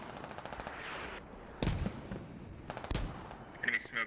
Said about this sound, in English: those are mortars actually overhead cover. Mortar barrage is about.